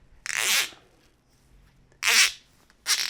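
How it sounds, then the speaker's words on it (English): An X-Force TQ tourniquet's zip-tie-style strap is pulled and ratcheted tight at close range, giving three short rasping bursts separated by brief pauses. "It zips down, and then you have your snowboard ratchet right here."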